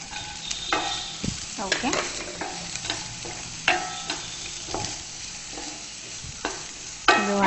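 Spring onions and capsicum stir-fried in a hot pan, a steady sizzle broken by repeated scraping stirs and clinks of a spatula, close and fairly loud, with one brief spoken word.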